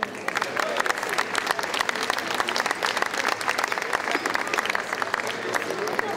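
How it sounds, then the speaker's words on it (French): An audience at a rugby league tribute event applauds, a sustained, fairly even patter of many hands clapping in a hall, steady from start to end with no talking on top. "Merci, vous pouvez les applaudir."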